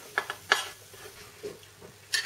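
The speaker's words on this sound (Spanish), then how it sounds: "vamos a ir terminando de mezclar todos los ingredientes" Potato gratin ingredients, including sliced potatoes and fried onion, are mixed in a bowl: a few sharp clinks and scrapes of utensil on dish come in uneven bursts, close and fairly quiet, with no voices.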